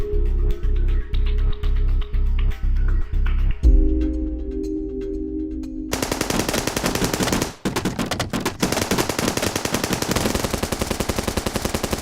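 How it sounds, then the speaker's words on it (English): Gunfire erupts in an area held by armed groups: loud rhythmic automatic bursts at first, then a short lull before dense, sustained rapid shooting with overlapping shots fills the rest. "Unfortunately, the gunshots awoke the armed groups in the area."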